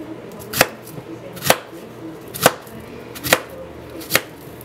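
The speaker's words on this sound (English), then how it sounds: "I cut it in little sections, like little circles," A knife chops a peeled plantain into thin rounds for tostones with five crisp, evenly spaced thuds against a cutting board, close and distinct, and a quiet background between the strokes.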